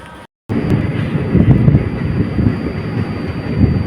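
The Teesta Torsa Express stands at a station at night, and after a brief dropout a loud, close, rumbling roar of the train fills the clip.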